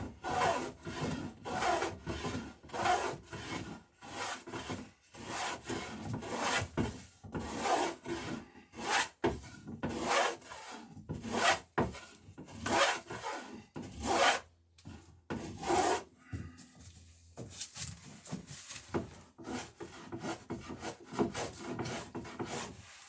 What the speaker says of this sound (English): So I'm just cutting a chamfer.